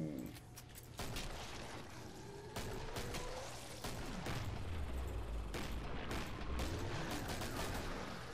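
Hand cannon gunfire in the video game Killing Floor: sharp, loud shots crack in quick, irregular bursts, mixed with game effects and a low whooshing rumble.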